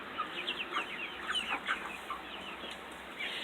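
Several backyard chickens cluck and chatter in a busy overlapping flock, close by and continuous at moderate volume with no talking.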